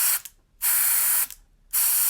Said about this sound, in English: And when I spray it, I'm actually seeing dust shoot out here